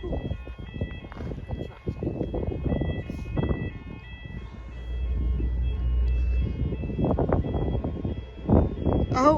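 A level crossing warning alarm at Common Lane, Somerset, sounds as a steady, repeating electronic tone throughout, with people talking and a vehicle rumbling nearby.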